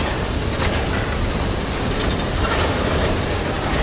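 O&R freight boxcars roll past loudly and steadily, a dense rumbling roar of wheels on rails with faint clatter.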